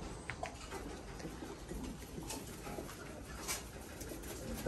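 Production pigeons in a breeding loft coo softly in the background, with scattered faint calls and light ticking sounds over a low steady ambience, no talking.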